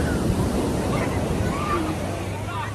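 Large sea waves washing onto the shore of the Sea of Japan at Steklyannaya Bay near Vladivostok, a steady, loud broadband surf roar with some wind noise and no clear breaks.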